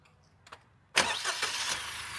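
A Maruti Dzire Z series three-cylinder car engine cranks and catches after a couple of faint clicks, then settles into a steady, close idle.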